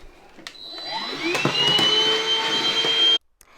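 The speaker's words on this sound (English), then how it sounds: "So I'm first of all going to get a hoover and just going to hoover it." A vacuum cleaner hoovers out a kitchen cupboard, its motor whining up to a steady high-pitched roar that runs for a few seconds, then cuts off abruptly.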